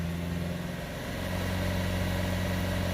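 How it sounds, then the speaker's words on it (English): A Renault Trafic van with a clogged particle filter, its engine held steady at about 3000 RPM: a loud, constant mechanical hum with a firm low drone that barely changes throughout, with no talking. "I'm going to hold the revs up around about 3000 RPM if we can get it to sit there"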